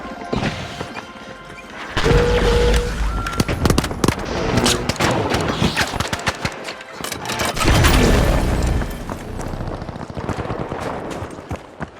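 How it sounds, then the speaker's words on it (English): A gas grenade thrown during a match of The Finals bursts amid heavy booms, crashes and gunfire, with loud blasts near 2 and 8 seconds over busy battle noise. "Outgoing gas grenade!"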